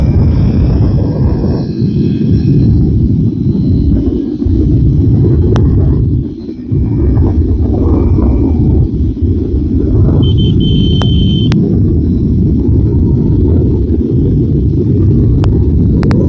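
A motorbike rides in third gear on a rural road, giving a loud, steady low engine rumble mixed with wind buffeting the microphone, continuous throughout, with a faint high whine at times.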